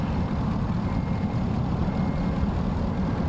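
A 2019 Ram 1500 Big Horn 4X4's 5.7-liter Hemi V8 idles with a deep, constant, slightly uneven rumble, heard nearby and steady with no talking over it.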